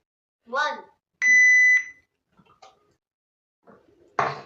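A timer gives one clear electronic beep, about half a second long, during a raw egg eating challenge, with brief bursts of a voice before and after.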